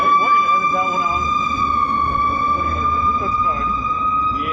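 A fire truck or police car siren wails steadily through a small St. Louis community, loud and close, with rising and falling tones over low engine rumble and no break for its whole length.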